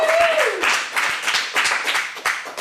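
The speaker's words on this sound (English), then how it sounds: "big round of applause for your teacher, Brian" A small audience at an acting studio commercial showcase claps for their teacher, scattered separate hand claps in a loose rhythm, fairly close, with a brief voice or tone at the start.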